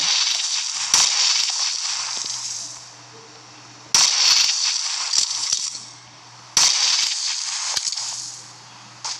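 A grenade explosion in the PUBG Mobile shooter game comes as sharp, loud blasts, three bursts about three seconds apart, each followed by a bright hissing, crackling tail that fades, with no talking.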